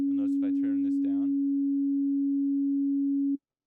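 A steady pure synthesizer tone from an Ableton Operator oscillator holds for about three seconds and then cuts off abruptly, with a brief stretch of talking over its start.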